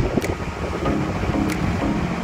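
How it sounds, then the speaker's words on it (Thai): Strong wind at the Bang Pu seaside, a loud, blustery rush buffeting the microphone with rumbling low gusts and a few brief sharp bursts, no talking. "ลมแรงนะครับ"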